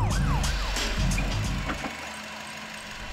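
A cartoon fire engine's siren wails with rising and falling sweeps over a loud engine rumble, close and continuous, easing slightly toward the end with no talk.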